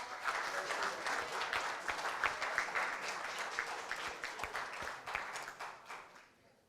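Sustained applause from an audience at a school district board of education meeting, a steady dense wash of many hands clapping that carries on for several seconds before thinning out and fading at the end.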